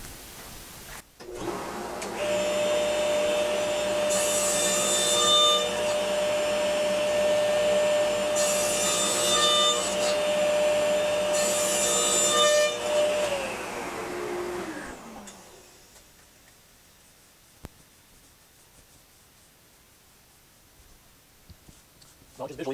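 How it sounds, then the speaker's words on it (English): A table saw cuts wood on a crosscut sled while a dust collector runs in the saw base and a second collector is hooked to the sled, giving a loud steady whine with cutting swells that winds down to near silence. "the dust collector running in the table saw base like the last one, but then as well I hooked up this auxiliary one to my dust collection on my sled"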